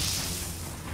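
Geralt's Igni fire sign cast in The Witcher 3 on Skellige, a short, loud burst of roaring, whooshing flame filling about a second.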